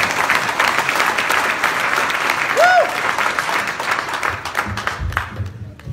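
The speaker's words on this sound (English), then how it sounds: "Let's give a big round of applause, guys." Loud, sustained applause from a crowd, dense clapping that fills the whole stretch, with a brief whistle rising over it partway through.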